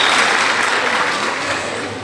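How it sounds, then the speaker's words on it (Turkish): Audience applause for young schoolchildren after a poetry performance at a reading festival, a dense steady clatter of many hands that stays loud and even throughout, tapering only slightly near the end. "minik öğrenciler katılımcılar tarafından uzun süre ayakta alkışlandılar"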